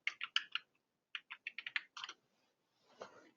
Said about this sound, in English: let me go ahead and type that in again.